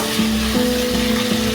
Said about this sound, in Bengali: আরো 3 থেকে 4 মিনিট এটাকে একটু কষে নেব।